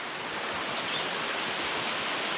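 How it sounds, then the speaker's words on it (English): Small waterfall at Centennial Pool on the Mount Willard Trail in the White Mountains, a steady broadband rush of falling water filling the whole clip with no voices. "there's like this small waterfall here. It's called Centennial Pool."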